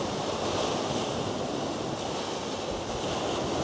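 Rough ocean waves churn and rush behind a sailing catamaran running fast in strong wind, a loud, steady wash of surf and wind noise with no letup and no voices.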